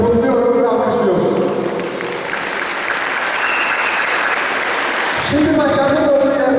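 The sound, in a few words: audience applause at school graduates' reunion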